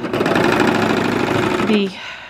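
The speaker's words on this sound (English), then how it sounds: "I'm gonna do this same finish on the regular sewing machine" A regular home sewing machine stitches in a fast, steady mechanical whir for almost two seconds, close and loud, then stops.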